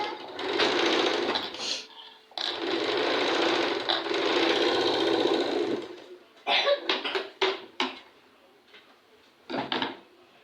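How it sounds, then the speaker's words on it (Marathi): A sewing machine stitches a puff sleeve seam in long close whirring runs, then breaks into several short bursts separated by brief pauses. "पाव इंचावरती शिलाई देत आहे।"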